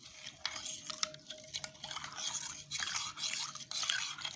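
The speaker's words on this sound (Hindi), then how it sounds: "ये दूध में मैं ऐसे हल कर रही हूँ चीनी" A spoon scrapes and swirls through warm milk to dissolve sugar in a home kitchen, making quick, uneven stirring strokes close by over a faint steady hum.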